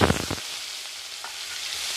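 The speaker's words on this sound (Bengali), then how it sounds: "ওদিকে তেলটা গরম হয়ে গেছে চিংড়ি মাছগুলোকে আমি একটু ভেজে নেবো" Shrimp fry in hot oil in a wok, a steady bright sizzle that fills the clip after a short burst of clattering at the start.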